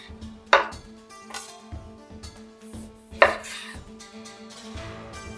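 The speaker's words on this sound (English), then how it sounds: "All you want to do with your lime is either cut it in quarters or cut it in half." A knife cuts a lime into quarters on a board, two sharp loud chops standing out among softer knocks and taps, close up with no talking.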